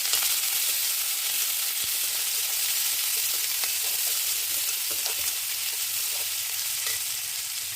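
Chopped onion, curry leaves, tomato and green chili sauté in hot oil with a bright, even sizzle, close and continuous, with faint crackles scattered through the steady hiss.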